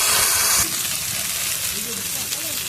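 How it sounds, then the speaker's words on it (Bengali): Taro pieces lightly frying in hot oil in a wok, a steady close sizzling hiss that starts with a brief louder burst and then settles into a continuous even crackle. "এবারে কড়াতে তেল দিয়ে দেবো, দিয়ে কচুটা হালকা করে ভেজে নেব।"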